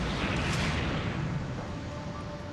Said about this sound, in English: a series of explosions destroyed the plane